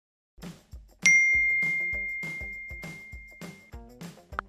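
A phone SMS notification chime rings out once, a bright ding with a long sustained ringing tail, cutting in over someone talking steadily throughout.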